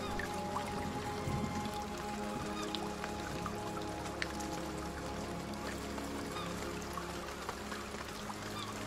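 Steady rain in the survival game Escape the Pacific, a dense, even patter with scattered drips running continuously at moderate level, no voices over it.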